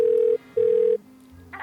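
Two long steady electronic ring tones of a telephone heard on the calling end, clear and close with a short gap between them, like a ringback signal on the line.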